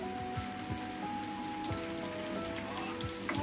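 Steady rain pours down during a storm, a dense even patter on surfaces close by that continues throughout with no speech.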